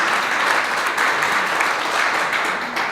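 An audience at a Justices of the Peace commissioning ceremony in Clarendon, Jamaica bursts into sustained loud applause and cheering, a dense even wash of clapping that holds for the whole stretch.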